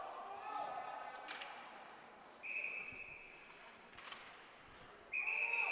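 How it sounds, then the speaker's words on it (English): Referee's whistle at a high school ice hockey game, two sharp steady blasts cutting over crowd murmur in an arena, with a commentator talking in between. "Whoop, hang on, we've got a whistle."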